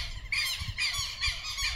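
Birds squawk in harsh, repeated shrill bursts, four loud calls in quick succession over low background rumble.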